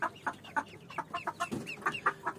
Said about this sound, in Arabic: يا جماعه الفراخ